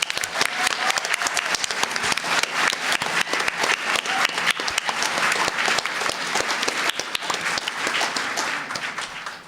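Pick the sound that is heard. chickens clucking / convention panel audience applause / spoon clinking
convention panel audience applause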